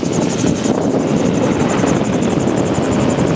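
Magni M16 gyrocopter in flight on practice circuits, a loud steady engine and rotor drone with a throbbing pulse, heard from inside the cockpit with wind noise.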